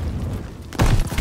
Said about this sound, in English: Holding stun grenade.